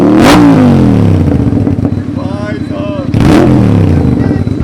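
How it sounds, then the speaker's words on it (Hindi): A Royal Enfield Continental GT 650 with a full-system exhaust revs hard twice, rising sharply to a loud, raspy roar. Between the blips the engine settles to a throbbing idle, close and dominant, with some voices faintly underneath. "फुल सिस्टम एग्जॉस्ट है तो भाई साउंड भी बहुत ज़्यादा लाउड हो जाएगा"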